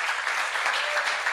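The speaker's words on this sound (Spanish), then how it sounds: "¿Usted le puede dar un aplauso al Señor por eso?" Church congregation clapping during a sermon, a brief burst of dense, even applause from many hands at moderate loudness with no break.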